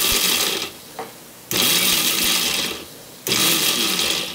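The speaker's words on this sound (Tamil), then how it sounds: "நான் மிக்ஸி ஜாரில் நட்ஸை போட்டு வச்சுருக்கேங்க" A mixer grinder runs in short pulses on lightly dry-roasted nuts in its jar: three loud whirring bursts, each cut off abruptly, with brief quiet gaps between them.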